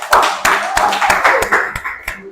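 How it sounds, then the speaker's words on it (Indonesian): A classroom of students claps hands in sharp, roughly regular bursts, about eight distinct claps in quick succession, fairly loud and close, tapering off at the end with no speech over them. "tepuk tangan nak."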